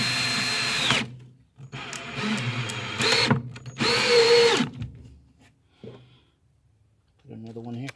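A power drill drives lag bolts into a wooden shelf frame in bursts of loud whirring, several runs separated by short pauses, close by, with brief sounds of handling between.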